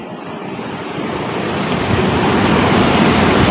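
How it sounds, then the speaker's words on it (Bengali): Strong wind before rain roars continuously on a rooftop, buffeting the microphone and growing louder over a few seconds, with a surf-like rush and no voices. "কি হাওয়া, কি হাওয়া।"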